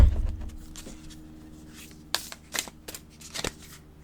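Oracle cards being shuffled by hand, a few soft riffling bursts and slaps near the end after a quiet start, close and alone.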